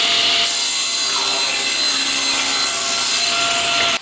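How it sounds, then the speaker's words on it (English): A table saw cuts through plywood on a sled while building a bee escape jig, a loud continuous high-pitched whine of the blade in the wood held for about four seconds before cutting off sharply at the end. "we're going to adjust this table saw to 3/4 of an inch, where it will cut through this plywood"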